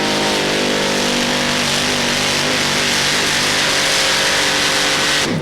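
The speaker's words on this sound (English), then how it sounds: "one of the 8 cylinders of his Arias engine has gone down," A pulling tractor's eight-cylinder Arias engine, running with one cylinder down, roars loud and steady at a 1995 European tractor pulling event in Hörby, Sweden, with a sustained, harsh, unbroken drone throughout.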